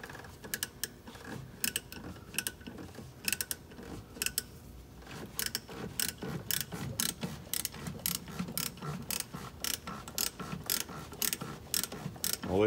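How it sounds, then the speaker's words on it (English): Ratchet wrench turning an S-type brake slack adjuster in tightening mode on a truck drum brake, giving rapid bursts of sharp close clicks in uneven runs, louder and denser in the second half, with no talk. "put your ratchet in the tightening down mode."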